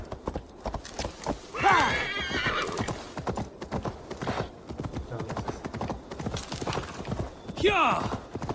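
A horse in Assassin's Creed Valhalla whinnies loudly twice over a continuous run of clopping hooves, close and prominent, with some talk mixed in.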